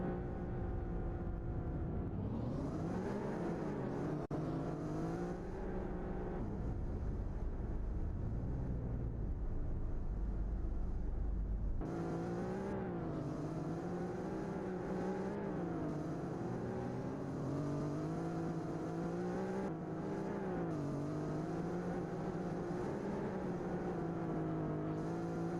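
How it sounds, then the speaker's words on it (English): Formula E electric race cars at the Diriyah ePrix drive slowly toward the grid, giving a steady, continuous whirring drone whose pitch rises and falls as they move, with no voices. "Looks like the cars are now heading off to the grid."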